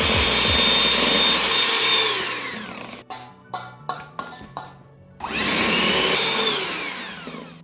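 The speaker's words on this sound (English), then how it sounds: "using our hand blender here, we're gonna mix this up" Hand blender whirring loudly through keto pumpkin cheesecake filling, running steadily for about two seconds, then cutting into a series of short stuttering bursts before revving back up to a sustained whine that winds down at the end.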